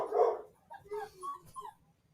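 A puppy lets out one sharp close bark, then a string of softer whimpering yips trailing off.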